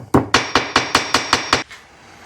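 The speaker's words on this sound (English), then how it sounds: "Hammer this out." Eight sharp hammer blows on a Morris Marina 1.3 Coupe Deluxe in a quick, even rhythm, loud and close, then a short ringing fade into quiet.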